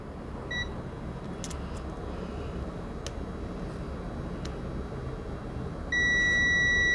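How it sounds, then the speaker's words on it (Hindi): Multimeter in continuity mode on a mobile phone circuit board, giving a few short beeps followed by a sustained, louder tone near the end, over a steady background hum. "अब इसको हम फिर से बीप की रेंज पे चेक करेंगे।"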